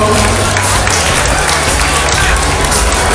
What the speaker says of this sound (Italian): intanto che mi raggiungono io chiedo un applauso